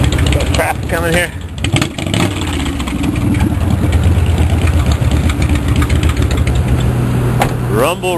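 A vehicle fitted with extremely loud, illegal exhaust pipes idles with a deep, throaty rumble that swells as it revs, close and dominant throughout, with someone talking over it near the start.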